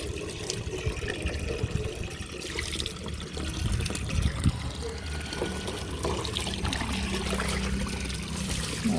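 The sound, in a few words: water running while washing a shoe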